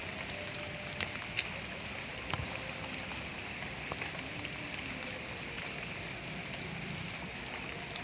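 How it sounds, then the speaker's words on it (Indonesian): Soft, steady patter of light rain drizzling outdoors at a Betawi cemetery, a constant gentle hiss with a few faint drip ticks and no voices. "hujan ngericik tiris"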